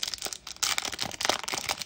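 Foil wrapper of an O-Pee-Chee NHL hockey trading card pack being torn and crinkled open, a series of close, sharp ripping and crackling bursts with no talking.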